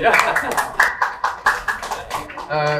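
An audience claps in short bursts at a talk about Indonesia's national data centre, with a voice speaking over the applause throughout.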